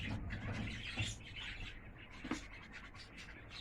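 Pigeons at a loft coo and chirp faintly, mixed with light scratching and shuffling at close range against a quiet background.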